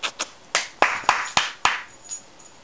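A man claps his hands indoors near a baby, a loose run of about seven sharp claps spaced irregularly, fairly close and with no voices over them.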